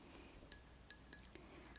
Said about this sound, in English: I have a glass of water for you.